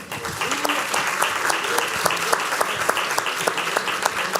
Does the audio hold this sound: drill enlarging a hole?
no